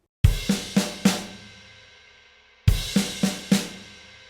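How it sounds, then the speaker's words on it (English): Drum kit crash cymbal struck together with the bass drum in two groups of four accented hits, each crash ringing and decaying, with a short silent gap between the groups. "we're going to add a crash cymbal with the bass drum"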